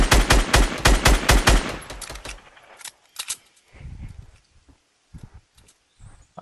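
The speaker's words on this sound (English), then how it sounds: "Oh, motherfucker, they're shooting." Rapid bursts of automatic gunfire in a video game squad match, loud and close at first, then thinning into scattered distant shots and single cracks.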